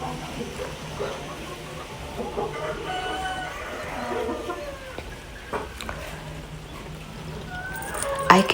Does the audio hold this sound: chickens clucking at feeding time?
yes